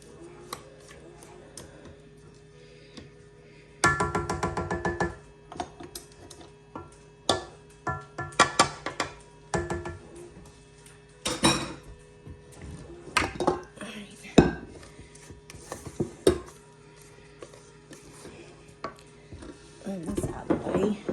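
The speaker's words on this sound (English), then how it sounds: "Scrape this off as good as we can." Spatula or spoon scraping and clinking against a mixing bowl while clearing out batter for a loaf pan, a run of irregular scrapes and knocks up close, with a few quiet spoken words.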